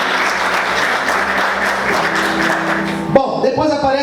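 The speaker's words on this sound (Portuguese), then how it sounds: "Você pode aplaudir Jesus por isso, aleluia" Church congregation applauding during a sermon, a dense, steady wash of clapping that cuts off abruptly near the end, when a voice speaks over the quieting room.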